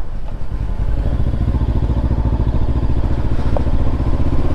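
An FKM ARY 500 motorcycle is ridden with its engine running continuously, giving a loud, steady, close throb with rhythmic pulsing and wind rush and no pauses.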